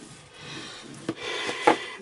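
Paper pieces for a journal embellishment are rubbed firmly together to burnish them, making a soft continuous scraping with a couple of sharper strokes, close and fairly quiet.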